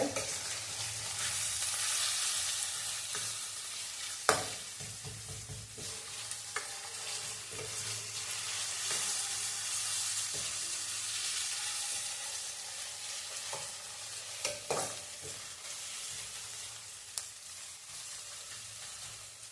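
Onions frying in a pan for an egg curry, a steady broadband sizzle running throughout with occasional sharp clinks and scrapes of stirring, close and moderately loud, with no talking.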